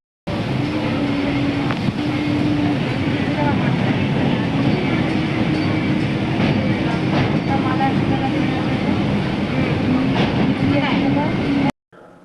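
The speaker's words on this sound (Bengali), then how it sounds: "শান্তিপুরের ট্রেনে উঠে গেছি। এখন ট্রেনটা কালীনারায়ণপুর ঢুকছে।" A Shantipur local train pulls into Kalinarayanpur, heard from a window seat inside the carriage as a loud, unbroken rumble and rattle of wheels on track that cuts off abruptly near the end.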